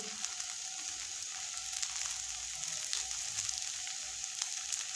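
A barnyard millet dosa roasting on a griddle, a quiet, even, hissing sizzle with fine crackles throughout, close and steady with no talking.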